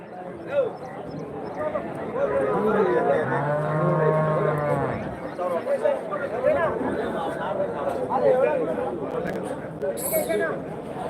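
Calves and cattle at a village cattle market near Hosur, with one long, deep moo rising clearly over market chatter, voices talking nearby, and a few hoof-like clops in a busy outdoor setting.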